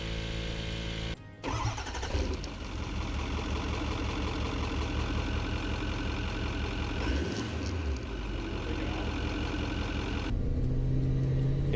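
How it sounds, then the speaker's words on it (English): A Ford F250 6.4 diesel pickup engine with a new turbo actuator runs steadily with a continuous low rumble and mid-range drone, holding constant without talk and rising slightly near the end. "here's how the truck drives with the new actuator"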